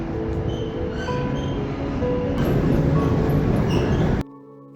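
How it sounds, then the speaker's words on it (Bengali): A train pulling into platform 4 at Birmingham New Street station, a loud continuous rumble with squealing wheel tones building, then cutting off abruptly near the end. "ওই যে আমাদের ট্রেন আসছে।"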